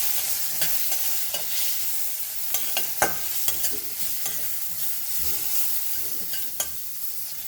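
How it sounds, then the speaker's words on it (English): A spoon stirs a hot tadka of spices into Goan dal, soft irregular scrapes and clicks against the pot over a low, steady sizzle of frying oil, heard alone without talk. "And we mix this tadka."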